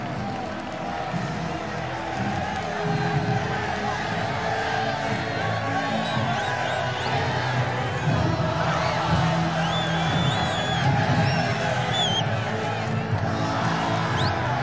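Large stadium crowd at the Santiago Bernabéu welcoming new Real Madrid player Ferland Mendy, a broad sustained roar with scattered whoops and whistles, distant and continuous, with faint talk over it.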